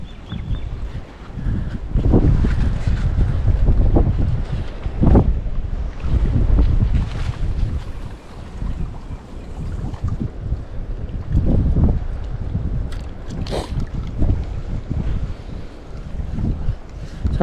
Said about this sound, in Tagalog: Sobrang lakas lang kasi ng hangin.